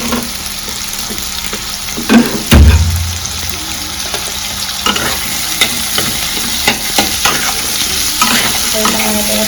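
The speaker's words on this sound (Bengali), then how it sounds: "পেঁয়াজ আর ক্যাপসিকাম একটু ভাজা ভাজা হচ্ছে" Onion and capsicum stir-fried in hot oil, a loud continuous sizzle broken by a heavy clunk and repeated scraping stirs of a utensil against the pan, up close with no speech.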